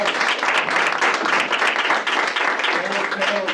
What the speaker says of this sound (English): let's give a round of applause to all these people who came up on the panel